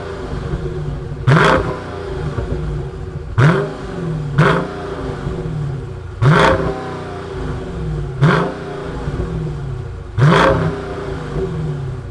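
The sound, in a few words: muscle car V8 engine starting and revving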